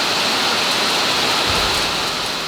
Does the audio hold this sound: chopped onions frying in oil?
no